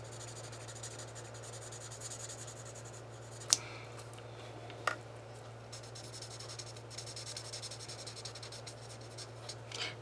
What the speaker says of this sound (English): So I went ahead and I just colored these over.